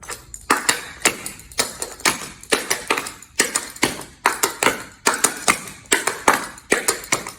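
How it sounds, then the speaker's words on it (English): Dance shoes tap out a steady rhythm of paired clicks, crisp double steps repeating over and over with no voices. "when you hear the double clicking sound, you've got it."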